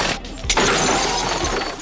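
Glass window of a banquet hall shattering in one loud burst, followed by a dense spray of falling shards that rattles on steadily to the end.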